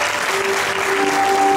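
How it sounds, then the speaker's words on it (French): A church congregation bursts into dense, steady applause, close and loud for the whole short moment. "applaudissez le Saint-Esprit"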